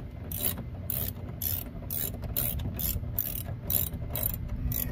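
A ratchet with a 10 millimeter socket turns bolts, giving quick bursts of sharp clicking in a steady repeating rhythm, close and fairly loud, with no talking.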